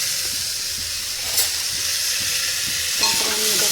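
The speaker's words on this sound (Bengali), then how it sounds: "তারপরে আমি এটাকে একটু ভালো করে নাড়বো।" A utensil stirs vegetables sizzling in a pan, with pepper, salt and two green chillies just added; a steady close frying hiss runs throughout, with light scraping stirs and a louder stir near the end.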